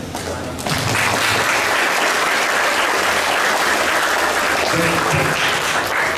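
An audience at a lecture breaks into loud, sustained applause that starts abruptly and keeps going evenly for several seconds.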